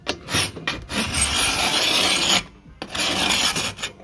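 Old paint is scraped off an aluminium window frame in repeated rasping strokes, loud and close, with brief pauses between passes and no talking.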